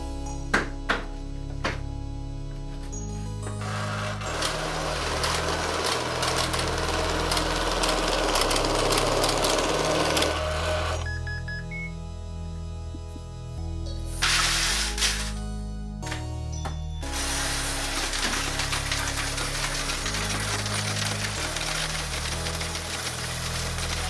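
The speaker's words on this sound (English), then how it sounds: "we're gonna run them through our 2 machines here to get them sorted" Coin and bill sorting machines run after emptying four vending machines, a loud continuous mechanical rattle and whir with repeated clattering bursts, brief pauses and thumps as batches feed through.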